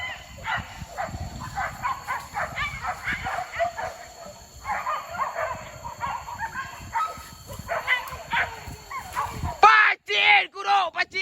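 A dog barks and yips repeatedly among scattered voices and background activity, the sounds close and irregular, with a sharper burst near the end.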